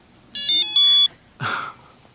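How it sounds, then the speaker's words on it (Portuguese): A short mobile phone beep: a bright electronic tone of a few quick stepped notes, loud and clear for about a second, followed by a brief noisy burst. "O bip do meu telefone."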